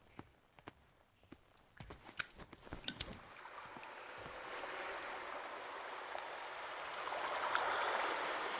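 Wading through water in the horror video game Call of Cthulhu: a few scattered footsteps and knocks, then a steady broad splashing, sloshing wash of water that builds and continues to the end, with no talking.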